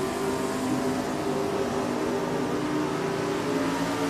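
Drag racing cars, one a '55 Studebaker, run side by side down a dragway, a steady loud engine roar sustained throughout with no voices.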